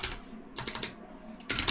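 Typing on a computer keyboard, two short quick bursts of close, light key clicks separated by a brief pause, faint and alone.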